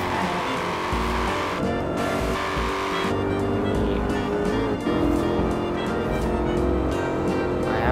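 A Chevrolet Camaro in the racing game Forza Horizon 4 roars loudly and steadily, its engine revving and shifting with brief tire squeals, with a voice speaking faintly underneath.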